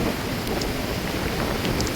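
Wind and rain storm on a fishing coast with boats hauled ashore, a steady dense hiss of rainfall and wind, loud and unbroken with no talking.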